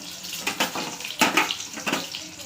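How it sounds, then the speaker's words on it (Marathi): Boiled eggs fry in a little hot oil in a Maharashtrian home kitchen, giving a steady crackling hiss broken by several sharper spatters and pops, close and fairly loud, with no voices. "यात ही अंडी आपल्याला तळून घ्यायची"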